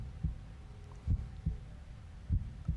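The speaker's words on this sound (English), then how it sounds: "you can hear the heartbeats." Five deep, thudding heartbeats from the video game Omori pulse at an uneven pace over a low steady hum, no voices.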